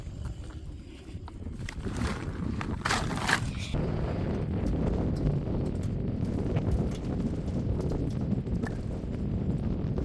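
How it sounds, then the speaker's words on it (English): Steady desert wind buffets the microphone in a continuous low rumble among sand dunes in NEOM, Saudi Arabia, with a few scattered knocks and rustles near the start. "It is pretty windy"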